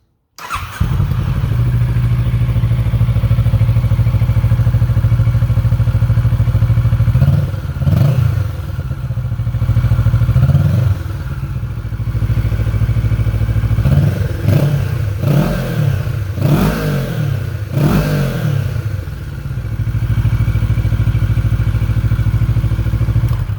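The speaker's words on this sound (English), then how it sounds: "650 Versys with an Akrapovic exhaust sounds like," A Kawasaki Versys 650 motorcycle with an Akrapovic exhaust idles with a deep, throaty exhaust rumble, then gets several sharp revs that rise and fall, loud and close.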